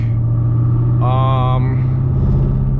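A 500-whp Camaro SS with a ported 95mm throttle body, E85 and a full Borla Attack exhaust drones loudly and steadily up close, with a brief higher-pitched whine rising mid-way, and a voice talking over the engine.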